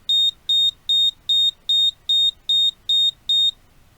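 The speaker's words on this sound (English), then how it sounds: "the buzzer goes and the red light stays lit longer" An electronic buzzer sounds nine short, evenly spaced high-pitched beeps in quick succession, clear and alone against near silence.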